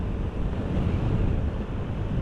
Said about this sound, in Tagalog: Sobrang lakas din kasi ng hangin talaga ngayon